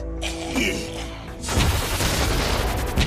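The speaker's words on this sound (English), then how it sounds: "They're shooting at us!" Booming cartoon gunfire erupts in an animated Transformers episode, a rumbling opening giving way to a dense, loud barrage of shots and blasts that fills the second half.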